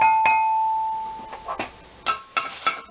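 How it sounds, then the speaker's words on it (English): A bell chimes in a home kitchen while a cornstarch mixture is poured for chicken Provençal; a sustained ring opens, then several short struck tones follow at a near, moderate level with faint background noise. "Sounds like a bell."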